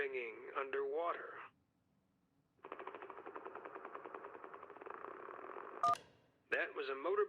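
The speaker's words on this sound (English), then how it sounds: "That was a motorboat's propeller failing." A motorboat's propeller failing in the video game Kentucky Route Zero: a rapid, stuttering mechanical chug lasting about three seconds, set between filtered, radio-like voice.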